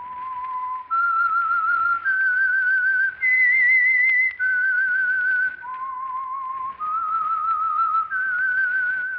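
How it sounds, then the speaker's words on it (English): A lone whistler performs the theme tune of The Whistler radio show, a clear, close melody of sustained notes rising and falling in pitch with short breaths between phrases. "That whistle is your signal for the Whistler"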